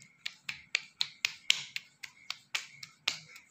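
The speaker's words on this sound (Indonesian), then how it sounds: "tepuk-tepuk" Hands pat under the chin and along the cheeks during a facial massage, giving about a dozen sharp, light slaps in a quick, even rhythm, close and fairly quiet.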